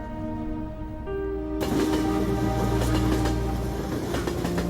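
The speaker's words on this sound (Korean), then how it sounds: "1898년에 생긴 스위스 최초의 톱니바퀴 열차는 느긋하게 산을 밟아 올라간다." The Gornergrat cog railway train, Switzerland's first rack railway from 1898, climbs slowly up the mountain near Zermatt with a steady mechanical hum that suddenly swells into a louder, broadband rumble and clatter, continuous and close.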